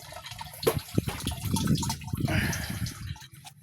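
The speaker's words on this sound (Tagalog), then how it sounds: "Lalagyan nyo muna siya ng pondo na tubig." Water is poured into a sprayer tank on an onion farm, a soft splashing and gurgling close by that swells and fades over a few seconds.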